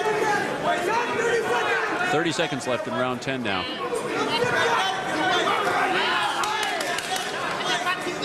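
A raucous boxing crowd cheering for Steve Forbes in a late round, a dense, continuous roar of chatter and shouts under a commentator's voice.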